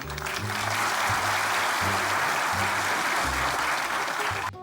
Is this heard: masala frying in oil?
no